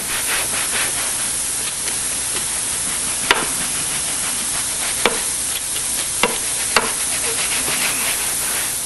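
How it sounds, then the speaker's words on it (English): A gentle horsehair brush scrubs upholstery during professional cleaning, making a continuous close, soft scratching hiss broken by a few sharp clicks. "This is a horsehair brush, so it is gentle."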